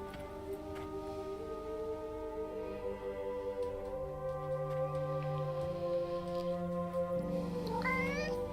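A cat meows repeatedly in a video game, soft rising calls layered over steady game music with sustained tones throughout.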